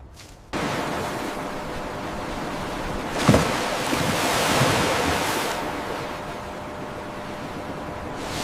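Waves washing onto a beach, a broad steady roar of surf with a swelling rush midway, loud and close with some wind buffeting.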